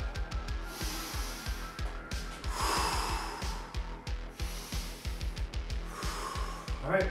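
Several people breathe deeply and forcefully between rounds of a lower-body workout, with sharp rhythmic inhales and exhales close by alongside repeated thumping footfalls.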